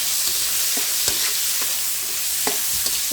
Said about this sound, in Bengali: এটা দিয়ে নেড়ে চেড়ে সুন্দর করে ভেজে নেবো